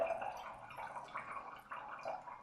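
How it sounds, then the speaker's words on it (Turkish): Water poured through a funnel into a container during a classroom gas pressure experiment; soft, close trickling and dripping with a faint gurgle, quiet and continuous. "Huninin üstünden su ekliyorum"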